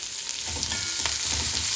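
Steady, close sizzling of chopped onions frying in a hot pan with curry leaves, with faint scraping as they are stirred.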